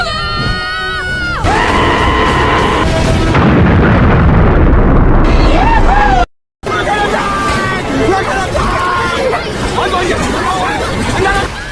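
In an animated cartoon, an asteroid strikes a spaceship with a loud, rumbling explosion burst amid music and voices, followed by a brief silence.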